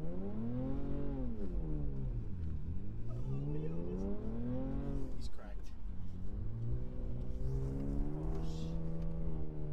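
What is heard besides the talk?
Toyota Tacoma engine revving while drifting in snow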